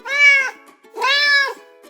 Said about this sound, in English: Yes, it's a cat. Cats say meow.